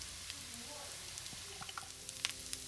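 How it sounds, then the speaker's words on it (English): Garlic and ground lemongrass stir-frying for sate beef noodles, a quiet, steady sizzle with light clicks and scrapes from stirring scattered throughout, heard close and alone. "stir until garlic turns light golden, about 2 minutes"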